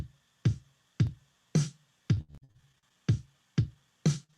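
A sequenced drum pattern of sharp snare hits in a steady rhythm, about eight strikes, alternating between a low-tuned and a higher snare, dry and alone.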